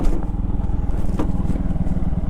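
A motorcycle engine idles with a close, low, pulsing thump as the bike is brought to a stop and parked outside a village house.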